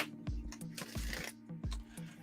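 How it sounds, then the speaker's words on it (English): Tarot cards being shuffled by hand, with several quick riffling bursts over a steady low hum, close and moderately loud, with no talking. "And I love shuffling."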